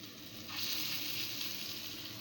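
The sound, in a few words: frying lentil patties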